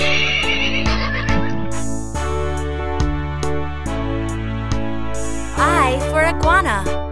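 A horse neighs and whinnies in a series of loud, close calls, ending in a long rising and falling whinny.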